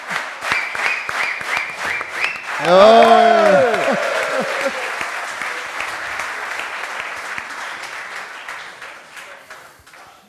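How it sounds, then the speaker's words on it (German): Studio audience at a German sports comedy show bursts into applause and cheering for a contestant, loud at first and then tapering, with scattered claps and a brief spoken word beforehand. "großen Applaus für Nadim"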